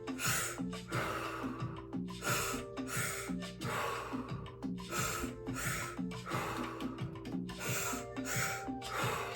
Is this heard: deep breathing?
yes